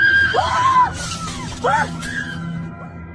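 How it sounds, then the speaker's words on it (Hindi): Dramatized screams in a Hindi ghost story, where a crying sound turns into a witch's shrieks aboard a bus: two loud, sweeping high-pitched wails cut by a brief shattering burst, over a low background rumble. "रोने की वो आवाज अचानक चीखों में बदल गई"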